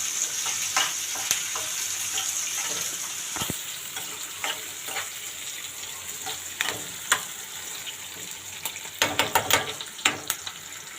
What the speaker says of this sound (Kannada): ಈರುಳ್ಳಿ ಹಾಕಿ ಇವಾಗ ಚೆನ್ನಾಗಿ ಫ್ರೈ ಮಾಡ್ಕೊಳ್ಳಿ ಈರುಳ್ಳಿ ಎಣ್ಣೆಲಿ